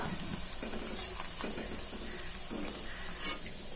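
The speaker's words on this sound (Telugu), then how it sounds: "చక్కగా వేగుతున్నాయి కరకరలాడుతూ వస్తాయి" Sago vadiyalu (bongulu vadiyalu) frying crisply in hot oil, a steady close sizzle and crackle throughout with soft stirring scrapes and no talking.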